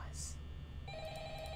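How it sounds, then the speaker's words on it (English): A telephone rings in Five Nights at Freddy's, a repeating electronic ring that starts partway through over a low, steady hum, with speech-like sounds faintly present. "It's the phone!"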